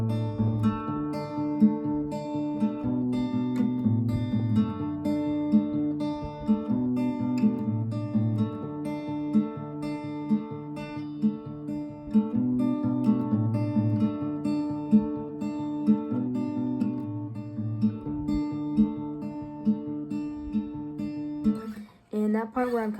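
Fingerpicked acoustic guitar plays a song at normal tempo, steady chord patterns ringing out alone and close, with a held final chord and a brief pause near the end.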